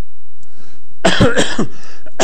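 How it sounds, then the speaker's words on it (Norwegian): A man coughs loudly and sharply several times in a row, close to the microphone, during a university lecture, after a quiet stretch. "jeg må få hoste meg gjennom en liten pause"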